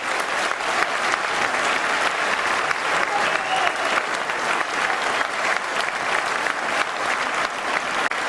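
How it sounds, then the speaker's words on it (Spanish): Sustained applause from an audience at a Spanish political gathering, a steady, even clatter of many hands lasting the whole stretch without a break. "os pido un fuerte aplauso"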